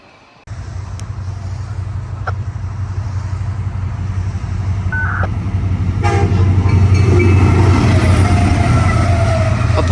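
A CSX freight train led by a locomotive with two heritage units back-to-back, a P.M. Lee heritage unit and a Family Lines heritage unit, rumbles past close by, its steady low roar building over ten seconds, with brief tonal horn-like notes along the way.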